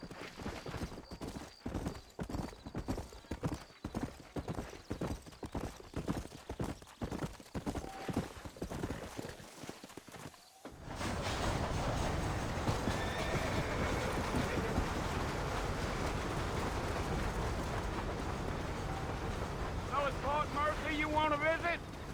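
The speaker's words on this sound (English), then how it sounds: "You ain't gonna find sturdier horses than these in all of New Albany" Hooves clip-clop steadily on horseback in the Red Dead Redemption video game, with a brief whinny, then a denser wagon-like rumble takes over in the second half.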